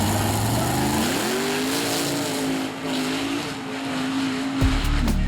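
A brand new mud truck makes a pass at the Mud Truck Madness outlaw shoot-out, its engine roaring loud and close with a steady rising drone, revving hard throughout before a sharp burst near the end.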